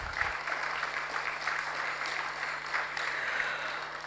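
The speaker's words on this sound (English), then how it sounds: "I think he deserves a special round of applause." An audience at a survey launch event for Nigeria gives a round of applause, a continuous, moderately loud patter of many hands clapping over a faint steady hum.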